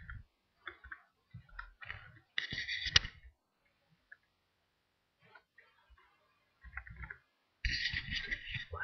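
Typing on a computer keyboard while composing an email message, heard as short bursts of rapid clicking keystrokes separated by pauses, with soft speech between the bursts.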